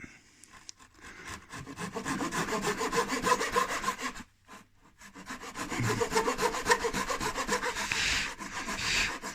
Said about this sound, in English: the criteria here is sawing down to the line